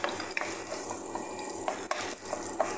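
Zucchini and potato filling sautéing in a pan, with a steady sizzle and repeated scraping stir strokes of a utensil against the pan, close and alone with no talk.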